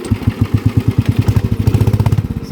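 A Harley motorcycle engine putts and sputters in a fast, uneven chug of low popping beats, loud and close, with no talk.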